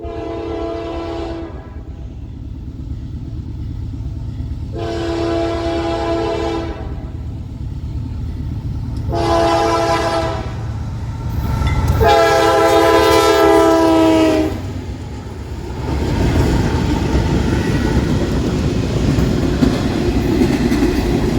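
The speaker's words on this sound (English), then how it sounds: "Norfolk Southern Train 30T makes its daily run south through Bainbridge" A Norfolk Southern freight train, Train 30T, rolls south through Bainbridge, New York, sounding its horn in four loud blasts, the last one longer, over a steady rumble of wheels and cars that carries on after the horn stops.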